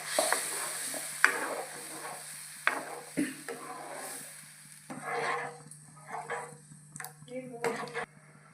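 Masala for a tamarind fish curry frying in a pan, heard as soft sizzling broken by repeated spoon scrapes and stirs, with someone talking over much of it.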